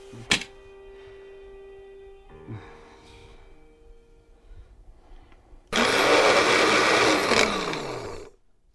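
A few clicks and a brief hum, then a blender roars loudly for a couple of seconds before cutting off.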